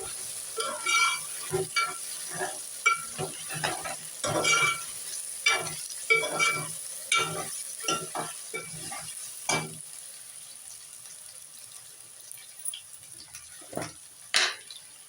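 Masala fries with ginger for a tomato and egg curry, soft sizzling under frequent sharp scrapes and clinks of a spoon against the pan, the stirring strokes thinning out toward the end.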